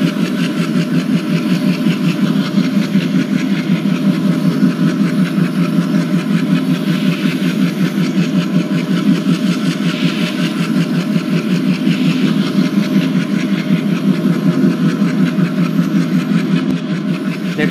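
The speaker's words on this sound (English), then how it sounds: "Enjoy the beautiful chugging sound of" Twin WDM2 diesel locomotives hauling the Howrah Duronto Express give a loud, steady low chugging throb with a rhythmic mechanical beat, heard close and continuous with no voices.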